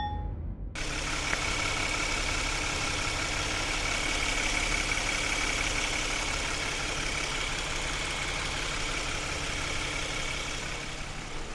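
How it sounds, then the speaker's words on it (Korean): A Genesis EQ900 with a 3.3-litre turbo engine idles with the engine bay open, giving a steady, even hum with a low rumble and some higher whine that holds throughout at moderate level, with no talk. "엔진 소리 한번 들어봤습니다."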